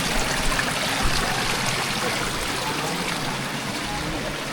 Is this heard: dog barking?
no